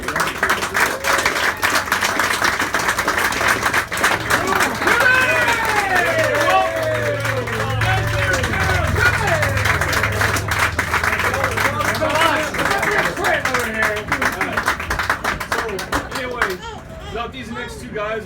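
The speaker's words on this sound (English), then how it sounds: "So can I get a real quick round of applause for all the other players who couldn't make it to Seattle?" A crowd at a medal presentation applauds with sustained, energetic clapping and cheering, steady and loud for most of the stretch, with voices calling out over it before it tapers at the end.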